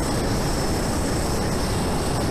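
A jet aircraft flying in the VR game Boneworks, a steady loud broadband engine roar that holds unchanged for the whole stretch, with no voices over it.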